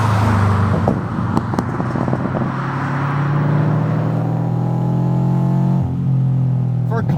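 A 2020 Subaru BRZ tS Final Edition drives a winding road, its engine droning loudly from inside the cabin and climbing steadily in pitch as it accelerates, briefly dipping at a shift before pulling again.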